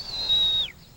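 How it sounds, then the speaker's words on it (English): A shepherd gives a single sharp, high whistle command to a border collie sheepdog, held steady for about half a second before dropping off quickly, loud and clear outdoors. "Whistles and words of command instruct the dog which way to move."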